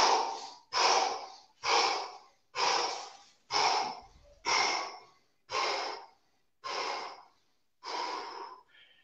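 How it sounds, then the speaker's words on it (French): Slow, deep recovery breaths after a breath hold during a guided breathing practice: nine or so long, loud, close breaths at an even pace, each a rushing airy exhale separated by short pauses, no talking. "Récupère jusqu'à temps que tu sois capable de faire des lentes respirations profondes, abdominales, tranquillement."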